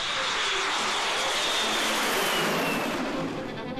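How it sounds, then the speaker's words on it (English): A de Havilland Vampire twin-boom jet fighter with a Goblin jet engine gives a loud, steady whine that roars across the whole clip with a rising high tone and no voices. "the whine of its Goblin engine"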